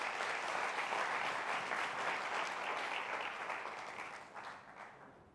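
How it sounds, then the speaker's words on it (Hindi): A meeting audience breaks into dense, steady applause that holds loud for several seconds and then gradually thins out toward the end, with no talking over it. "अगर मैं सही बोल रहा हूं तो एक जोरदार तालियां हो जाए"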